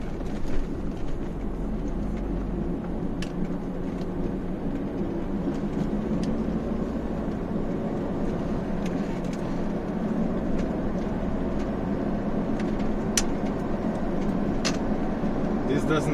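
A car's parcel shelf rattles and buzzes continuously while driving, light ticks and clicks scattered over a steady low road and engine drone, with no talking.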